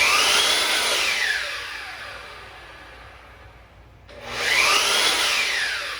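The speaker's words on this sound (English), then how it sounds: "if you'll listen to the Makita startup now" A Makita LS1219L miter saw motor spins up softly from rest with a smooth rising whine that swells to a steady hum, following the fading whir of an earlier spin-down, close and fairly loud.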